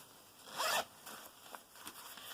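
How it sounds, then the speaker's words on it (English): A zipper closes on a see-through map bag in one quick, close pull, followed by soft rustling and a few faint clicks in a quiet setting. "zip it up"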